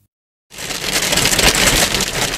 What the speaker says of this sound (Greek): ο καιρός δείχνει τα δόντια του με ισχυρή βροχή και χαλάζει